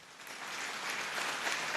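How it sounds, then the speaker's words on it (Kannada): Audience applauding at a school annual day, a dense, even patter of many hands clapping that swells slightly and holds steady, fairly distant and soft. "ಅದು ಬೇಕು ಅಂದ್ರೆ ನೀವು ಇವತ್ತು ಅವ್ರಿಗೆ ಚಪ್ಪಾಳೆ ಕೊಡಬೇಕು."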